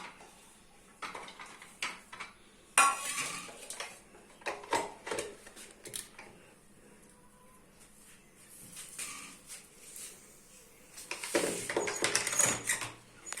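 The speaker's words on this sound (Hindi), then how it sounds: "तो सबसे पहले लहसुन को चॉप कर देते हैं।" Garlic being chopped in a hand-pulled chopper makes a series of irregular plastic clicks and rattling whirs in short bursts, close and fairly quiet, with a longer busy spell near the end.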